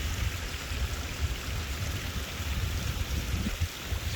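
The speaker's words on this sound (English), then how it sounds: "Just splashing my way up." Someone wades and splashes through shallow water outdoors, giving a steady rushing, sloshing wash with small splashy bursts, fairly close, and no voices.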